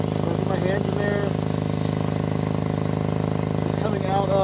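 An MK7 Golf R with an exhaust leak runs at a steady idle, a continuous close-up puffing drone with brief higher whines now and then, and faint voices mixed in.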